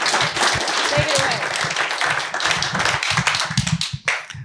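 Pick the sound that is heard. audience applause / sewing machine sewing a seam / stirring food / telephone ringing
audience applause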